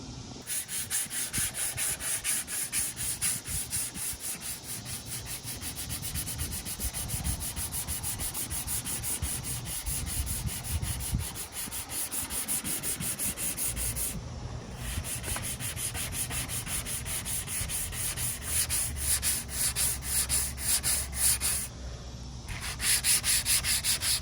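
Bondo body filler being sanded on a BMW E46 330i ZHP: continuous close rasping strokes, steady and rhythmic, with two brief pauses, no voices.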